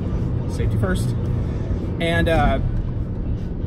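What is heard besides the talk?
wind and road noise inside a Mini Cooper car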